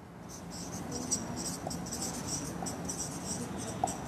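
A chemical compound being written out by hand during an organic chemistry lesson, with faint, scratchy pen strokes coming in short bursts over a quiet, steady background hiss.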